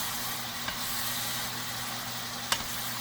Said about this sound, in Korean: 잘 볶아지고 있습니다요.